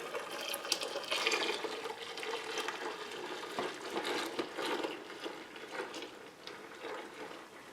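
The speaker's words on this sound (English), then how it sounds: "now we're going to carefully pour the soap mixture into the bucket with the gallon of water" Homemade laundry soap mixture being poured into a bucket holding a gallon of water, a close, steady splashing gush that tapers off toward the end.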